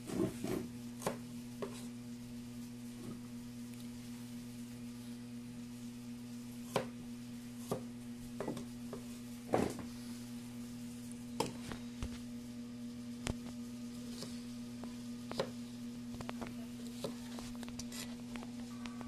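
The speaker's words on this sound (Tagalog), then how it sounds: "Hiniwa-hiwa ko ng sibuyas. Ginahandahan ko lang paghiwa kasi medyo mabigat ang aking itak." A heavy bolo knife slices onions with sparse, irregular knocks on a board, quiet and fairly close over a low steady hum.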